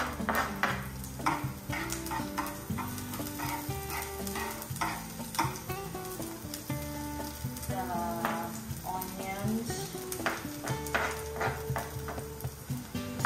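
Ground pork and garlic fry in a hot pan, with loud sizzling broken by repeated scraping and stirring strokes and occasional clinks of utensil on metal, close up and without speech.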